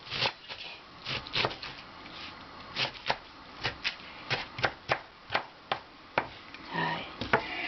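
Quick, sharp knife chops cut napa cabbage leaves on a cutting board in an uneven series, close and crisp, with short pauses between bursts.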